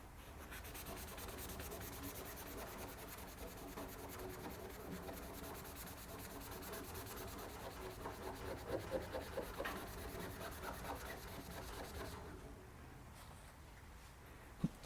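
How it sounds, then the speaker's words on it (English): Dry hand sanding with 1500 grit sandpaper, a steady rapid back-and-forth scratching rub that continues evenly, then quiets near the end before a single light knock. "the most aggressive way to sand with this sandpaper would be dry. So this will be the 1500 grit right here."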